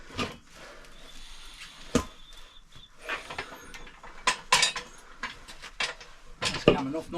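A car tyre, once fitted to a Ford Fiesta, is worked off its rim bead with plenty of dish soap, giving a string of sharp metallic clanks, scrapes and creaks at close range, with talk in between.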